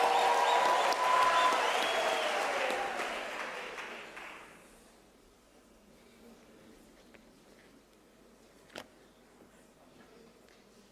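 A graduation ceremony audience applauds the graduates, dense clapping that fades out after about four seconds, leaving quiet room tone with one faint knock.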